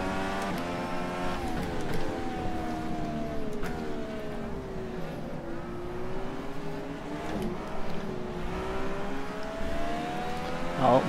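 Dallara DW12 open-wheel race car engine in rFactor 2, the racing game, heard at a track. It holds a steady high-revving drone with rising and falling pitch through gear changes and throttle shifts, and no one talks.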